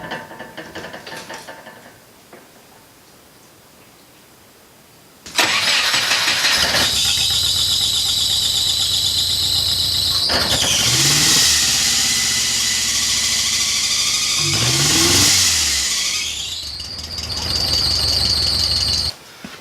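A Porsche 914 engine cranks and catches, then revs up and down with a loud, shrill belt squeal rising over the engine, easing briefly before climbing again as the revs build.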